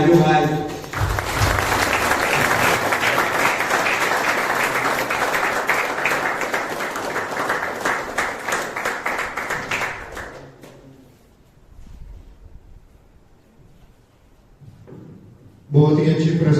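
Sustained audience applause after a rap song performance at an Independence Day celebration in a rehabilitation centre, loud and steady for about ten seconds, then fading to quiet before a voice starts speaking.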